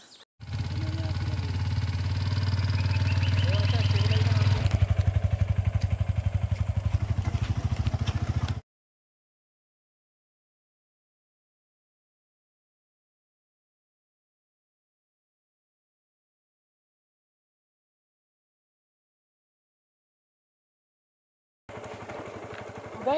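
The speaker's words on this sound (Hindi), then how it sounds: "गाइस आप लोग देख सकते हैं हमारा जो बाइक है वो चल रहा है।" A motorcycle fitted with wooden tyres runs with a loud, steady engine drone and rattling vibration for about eight seconds, then cuts to a long silence before the engine noise briefly returns at the end.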